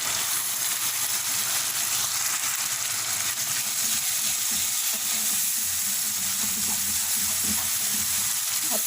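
Potato and egg being stirred together with spices in a hot frying pan, a steady close sizzle and frying hiss running throughout with soft scraping of the mix.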